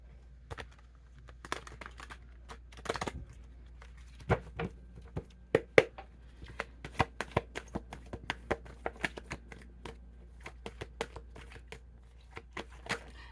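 Tarot cards are shuffled by hand in a quiet room, a long series of soft, crisp riffling clicks and flutters in irregular bursts, close and faint.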